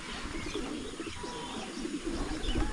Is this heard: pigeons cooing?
yes